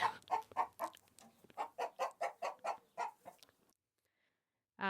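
A chicken clucks in a rapid series of about fourteen sharp, regular clucks, close and clear, then falls silent before a final burst, used as a sound effect for a show segment.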